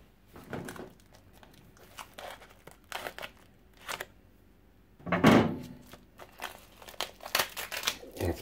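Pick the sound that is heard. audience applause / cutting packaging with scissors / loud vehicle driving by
cutting packaging with scissors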